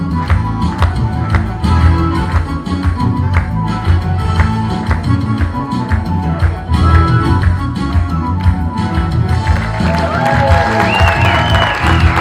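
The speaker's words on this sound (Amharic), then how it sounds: "ጭብጨባ አነሰ።" An audience applauds in a dense, continuous patter of many hands clapping at close range, with a faint tonal sound rising near the end.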